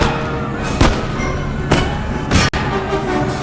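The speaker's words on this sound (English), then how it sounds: "Open fire!" Musket volleys in Empire: Total War battle, three heavy muffled booms spread over a dense, loud battlefield roar, with no voices audible.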